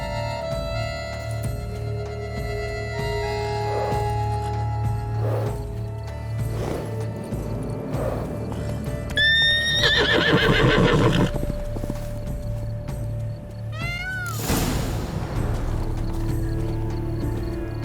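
Roach, the horse in The Witcher 3: Wild Hunt – Blood and Wine, gives several loud whinnies and snorts over steady clip-clopping hooves and a low background drone, with no talking.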